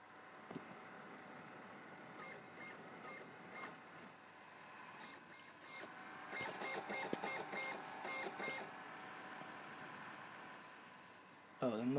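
A PlayStation 2 disc drive motor whirs while reading a game disc, producing a quiet mechanical hum with repeated clicking, stepping bursts in the middle, heard close and faint.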